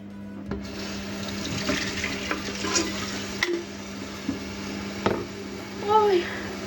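Hot water runs from a kitchen tap in a home kitchen while someone cooks dinner, a soft splashing flow with scattered clinks, and voices talking over it.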